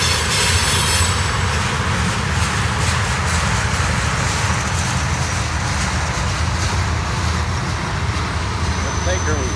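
A southbound CSX freight ammunition train rolls into Parsons Yard with a continuous loud rumble, clattering wheels and faint squeals, close by, while a voice speaks over it.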